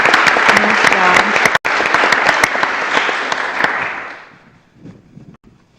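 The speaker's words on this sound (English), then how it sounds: "Could you guys give them one more round of applause?" Audience applause at a city commission meeting in Lynn Haven, dense and loud clapping for about four seconds with a voice partly over it, then fading to a few scattered claps.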